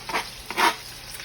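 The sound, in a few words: minced fresh garlic sizzling as it is added to hot oil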